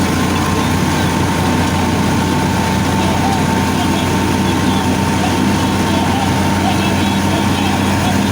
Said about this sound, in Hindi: 375 ट्रैक्टर है, मैसी प्रपोजल ट्रैक्टर।